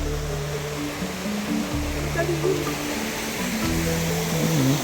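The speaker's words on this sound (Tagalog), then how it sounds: "Siguro karugtong yan ng falls yung ilog na yan." A river fed by a waterfall rushes in a constant broadband roar near the trail, with voices talking over the flowing water.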